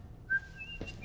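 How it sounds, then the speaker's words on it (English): A short, thin whistle rises and wavers through a few brief notes, faint and close, over quiet background. "Engage innocent whistle mode."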